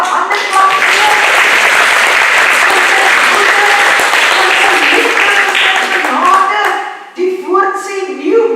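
A church congregation applauds with sustained, dense hand clapping that fills the space loudly, with music or voices mixing in before the clapping thins out near the end.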